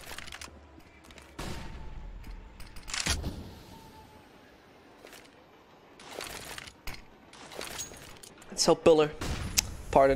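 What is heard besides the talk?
gunfire in Counter-Strike video game match on Train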